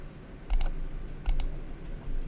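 Computer mouse clicked while working in ArchiCAD, two quick double-click pairs about a second apart, close and crisp over a quiet background hum, with no talking.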